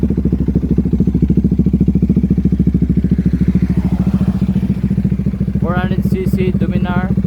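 A Bajaj Dominar 400 motorcycle with an open pipe exhaust idles with a loud, rapid, even thumping beat, and someone speaks briefly over it near the end.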